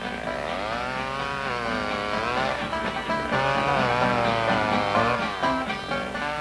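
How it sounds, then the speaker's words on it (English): A John Deere professional chainsaw runs steadily, its engine revving up and down in rising and falling sweeps, loud and close throughout with no voices. "One of 4 new chainsaws from John Deere."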